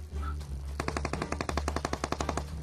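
Rapid automatic gunfire in PUBG Mobile, a steady burst of evenly spaced sharp shots starting after a brief lull and continuing to the end, loud and close over a low game hum.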